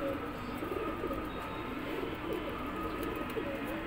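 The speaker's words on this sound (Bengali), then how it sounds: "এখানে দাদার খুব সুন্দর সুন্দর কবুতর আছে" Kasuri pigeons coo steadily and softly in a loft, with several birds overlapping into a continuous murmuring chorus and no talk.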